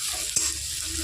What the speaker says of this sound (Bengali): এবার ভালো করে পেঁয়াজটা একটু তেলের মধ্যে নেড়ে নিয়ে